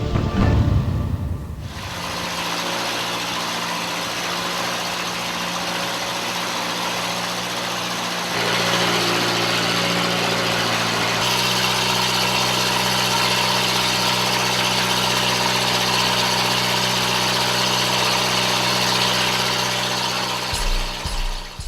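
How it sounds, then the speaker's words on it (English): A boat engine drones steadily and close throughout an outrigger boat crossing to Caubian Island, with a brief shift in pitch partway and no talking. "To get to Caubian Island, we chartered an outrigged boat."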